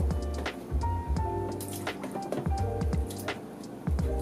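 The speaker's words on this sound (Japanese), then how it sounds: "まあ、この中で、もみ洗いをしたいと思います。" Bacteria-laden material is squeezed and rubbed in a container of dechlorinated tap water while setting up a 120 cm aquarium, giving close, continuous squishing, sloshing and dripping with no talking.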